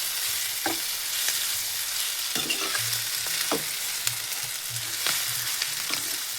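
Raw mango pieces stirred into onions frying in oil, a steady bright sizzle broken by repeated scraping strokes of a spoon against the pan, close and alone.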